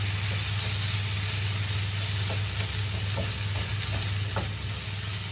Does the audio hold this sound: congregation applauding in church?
no